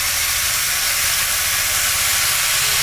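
Ginger, cumin, dried and green chilli and garlic paste hit hot oil in a pan, producing a loud, bright, unbroken hiss and sizzle close by.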